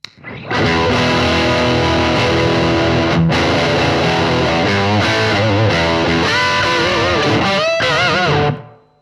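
Heavily distorted electric guitar through a Marshall reissue distortion pedal plays sustained chords and bent notes, loud and saturated, continuous for several seconds before cutting off.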